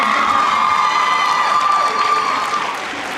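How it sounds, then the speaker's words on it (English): Loud, sustained applause and cheering from a school audience for the academy's teachers at a high school event, with whoops and shouts over steady clapping that fades slightly toward the end. "I would like to have one atomic explosion of applause for all the Future Academy teachers"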